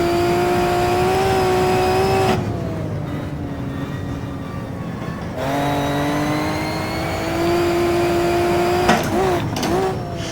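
Maserati 250 race car engine in a racing video game, droning steadily with pitch rising and falling through gear changes and a slide, loud and continuous for the whole stretch.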